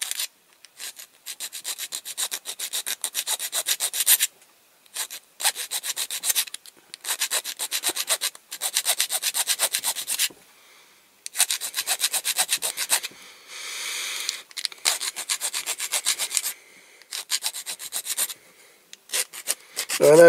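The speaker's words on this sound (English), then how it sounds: "I know I've got to file the top of these off" A metal file works the rivet posts on the base of a Corgi Toys Rover 2000 TC die-cast model car, making steady rapid rasping strokes in long close bursts separated by short pauses.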